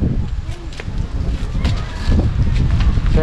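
Gusty wind buffets the microphone with a low rumbling roar at a scenic viewpoint, while faint voices of children sound in the background.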